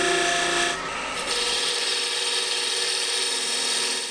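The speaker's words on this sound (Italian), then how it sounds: "la superficie va rettificata con sgorbia a dettaglio" A detail gouge scrapes and smooths the surface of a wooden bracelet, a close, continuous dry rasping that runs without pause throughout.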